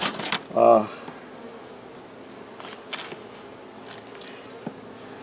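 Honeybees buzz around hive frames during an inspection, with one loud, close buzz passing early and fainter droning and small knocks continuing afterward, without speech.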